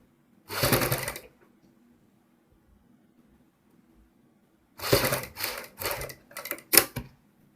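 A sewing machine stitches piping along a rounded neckline, one short whirring run, a long pause, then several quick stop-start bursts up close.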